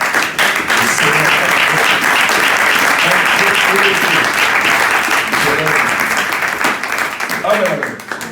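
A church congregation applauding during a Sunday worship service, sustained loud clapping from a large crowd filling the whole stretch, with voices calling out and talking underneath and the applause thinning slightly at the end.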